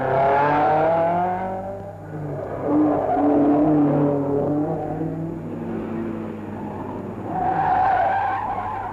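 A 1971 Circuit of Ireland rally car drives on the road, its engine rising and falling through gear changes while the tyres scrub and skid on the surface, fairly close and without talk.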